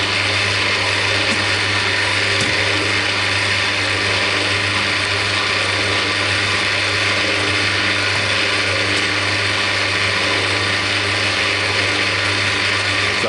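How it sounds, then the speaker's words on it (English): A Cormak ZX7045 milling machine runs with a loud, steady mechanical hum and a whirring gear drone, holding an even, continuous tone close by with no voices. "And then we'll start the mill up."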